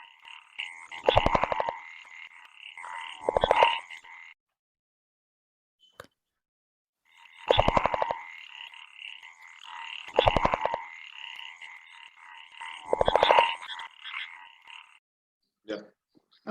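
Common tree frogs (Polypedates maculatus) in the Sundarbans give loud, rattling 'gada gada' croaks. They come in bursts, one pair, then a pause, then three more, with no voices.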